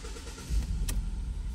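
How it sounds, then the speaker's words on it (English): A Ford Focus engine cranks over in a short burst: a low, steady rumble with a brief sharp click partway through, close by and with no talking. "start the engine, crank 5 times in 5 seconds"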